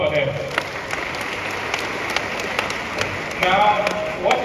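Applause at an arts and enterprise summit: a steady, moderately loud wash of clapping from the audience, with some sharper individual claps standing out and a brief swell near the end.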